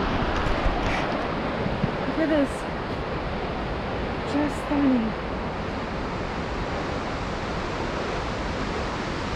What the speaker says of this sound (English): You can hear the waterfall behind me.